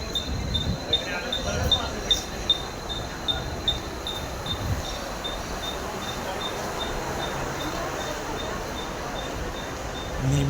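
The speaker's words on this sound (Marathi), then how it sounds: "आली आली आली ट्रेन आली, ट्रेन आली" A commuter train pulls into a crowded station platform, with a continuous rumbling roll, a faint high whine and a few rhythmic wheel clunks early on, while people talk nearby.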